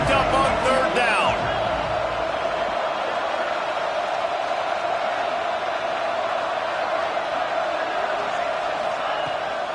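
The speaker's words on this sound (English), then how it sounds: "Crowd getting this defense whipped up on third down." Football stadium crowd roaring on a third down, a dense sustained wall of cheering and noise from start to finish, with a brief bit of voices near the beginning.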